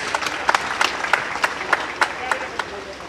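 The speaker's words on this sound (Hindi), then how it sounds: "आप लोग अगर चाहते हैं शौर्य की बात की जाए तो एक बार आदेशित करिए तालियों के साथ।" Audience applause at a Hindi patriotic poetry recitation event, a dense sustained crowd clapping with sharper individual claps throughout, loud and close.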